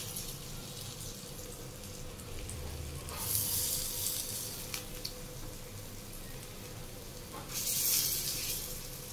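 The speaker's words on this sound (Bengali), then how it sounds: "কাঁচকলার কোপ্তা ফুটছে এখন" Raw plantain kofta balls frying in a frying pan give a steady hissing sizzle that twice swells into louder crackling surges, with no one speaking.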